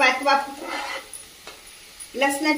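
Green garlic sautéing for a fenugreek thecha makes a soft sizzle and stirring rustle in a pan. A voice speaks over it at the start and again at the end.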